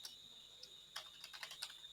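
Faint typing on a computer keyboard, a short run of light key clicks over a steady high-pitched background hum.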